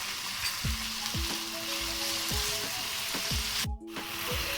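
Chicken tossed with spices sizzles steadily in a pan, a dense continuous frying hiss with occasional stirring scrapes, close and fairly loud with no talk.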